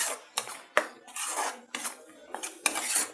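Metal spatula scraping and clanking against a pan while egg curry masala with tomato and oil is fried, a run of close, irregular scrapes and knocks with no talk.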